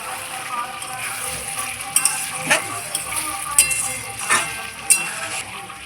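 Cauliflower and potato dalna with ghee sizzles in a pan, its steady frying hiss punctuated by several clinking, scraping strokes of a spoon against the metal, close and without talk.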